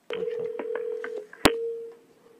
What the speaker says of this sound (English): It won't dial the phone.